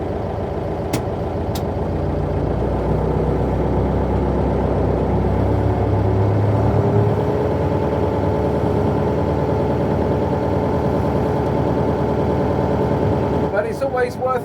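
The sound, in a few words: Mercedes 709d minibus engine driving off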